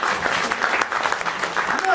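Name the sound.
audience round of applause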